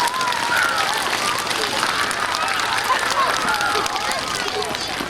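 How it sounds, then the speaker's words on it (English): Audience applause for award winners at a school Lifeskill assembly, sustained dense clapping throughout with crowd murmur mixed in. "Let's have a big round of applause for our Lifeskill winners."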